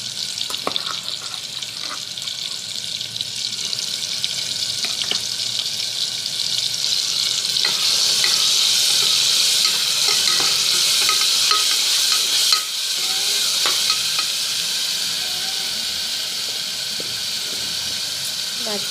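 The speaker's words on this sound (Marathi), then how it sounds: "तेल सुटेपर्यंत वाटण चांगलं परतवून घ्या." Spice paste sizzles and hisses steadily in hot oil in a pan as it is stirred, a close, continuous frying sound with occasional scraping and a voice speaking now and then.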